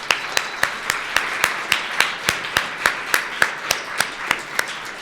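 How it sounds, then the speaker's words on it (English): Clapping for student work at the Innovation in Affordable Housing design and planning competition final, heard as a steady, evenly spaced run of sharp claps at moderate level, like a few hands beating in unison. "I'm going to start with just one round of applause for all of the students and all of the work in this competition"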